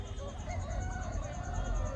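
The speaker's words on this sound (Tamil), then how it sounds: "நிறையா சேவல்கள் வந்து அங்கங்கே கட்டி போட்டு வச்சுருக்காங்க" Roosters tethered in large numbers at a big poultry market, a faint crowing and clucking over a loud, constant low rumble of market noise and crowd murmur.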